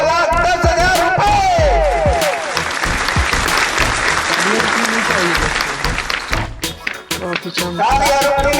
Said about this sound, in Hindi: तालियां रुकनी चाहिए दोस्तों, बजती रहनी चाहिए।